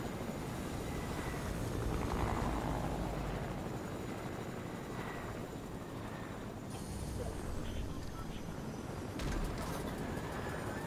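A wooden helicopter in the Fortnite video game produces a continuous rotor and engine drone that hums steadily throughout, with a few brief shifts in tone and faint voices underneath.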